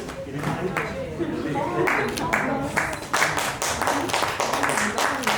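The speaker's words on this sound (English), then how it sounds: "big round of applause for the winners for doing so well" Audience applause for school quiz winners receiving a trophy at a Constitution of India quiz in Goa, scattered clapping from a moderate crowd, fairly quiet, with a voice speaking over it.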